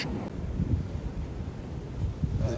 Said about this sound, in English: Wind gust.